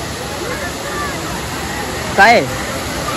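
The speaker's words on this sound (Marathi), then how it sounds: "इकडे बघा लय आवाज येतो पाण्याचा ना" Steady broadband roar of rushing water at Morbe Dam fills the whole stretch, with a crowd murmuring and a nearby voice speaking briefly over it.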